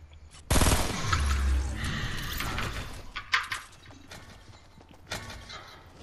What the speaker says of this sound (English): someone's shooting.